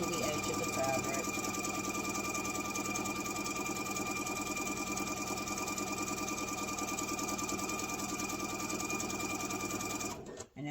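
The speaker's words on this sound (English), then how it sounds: "I'm going to sew all the way to the edge of the fabric" A sewing machine runs nonstop as it stitches fabric all the way to the edge, a close, even mechanical whir with rapid needle rhythm that cuts off sharply at the very end.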